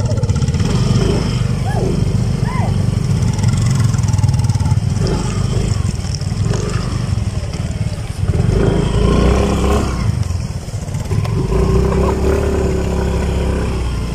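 Motorcycle loaded with relief goods riding steadily, its engine a continuous low drone close by with slight rises and falls in revs, brief voices over the top.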